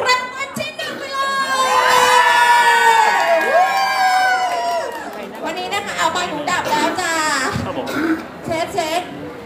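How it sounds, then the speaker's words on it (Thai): Fans scream and cheer loudly at a mini concert by a Thai singer at the Heavy Happy Feet event, a dense, sustained roar of high shrieks and whoops with voices mixed in. "ขอเสียงกรี๊ดหน่อยค่ะ"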